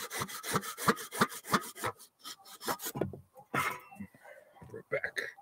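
A hand saw cuts wood for a wattle-woven raised garden bed on a homestead: a quick run of rhythmic, rasping strokes, then slower, scattered scrapes, close to the mic with voices nearby.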